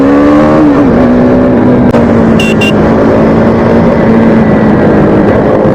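A KTM RC 390 motorcycle engine roars loud and close as the rider downshifts to second gear, pitch dropping sharply early on, then settling into a steady high drone with a brief chirp midway.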